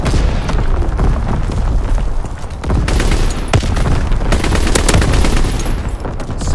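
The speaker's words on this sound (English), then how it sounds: "Firing primary battery." A primary artillery battery fires in Call of Duty WWII, delivering a dense barrage of booms and crackling blasts that overlap in irregular bursts for several seconds, loud and close.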